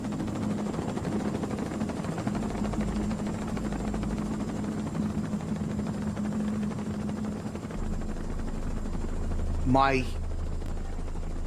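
A helicopter circling above burning towers at a disaster site, a steady loud rotor drone throughout, close and continuous, with a brief swooping tone near the end and a single spoken word.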